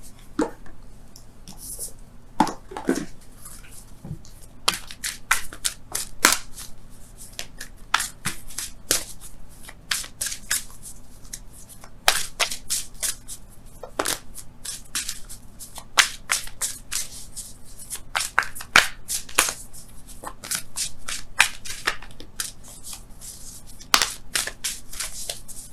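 Wisdom of the Oracle cards are handled and shuffled, giving repeated crisp riffling and slapping bursts at an irregular pace, close and clear over a faint steady hum.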